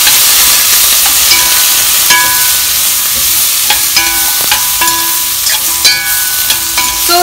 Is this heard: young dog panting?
no